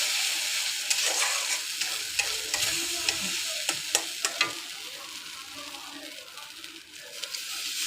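Ground spice paste fries with onions in a pan, a dense continuous sizzle broken by repeated spatula clicks and scrapes as it is stirred, close and steady.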